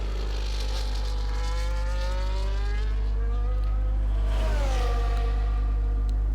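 Synthesized race car engines from a retro Japanese racing video game with an F1-style Jordan car, a steady high droning whine with rising and falling pitch sweeps as cars pass, no voices.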